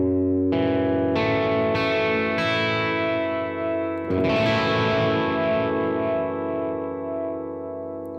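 Electric guitar run through effects with a chorus-like shimmer and echo plays four modern worship chord shapes one after another, each ringing out and overlapping in a lush, sustained wash.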